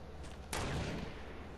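A single gunshot fired in the video game Fortnite, one sharp loud crack over a steady background of game noise, with no voices.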